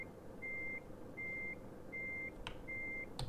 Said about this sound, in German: Jetzt fährt er rückwärts.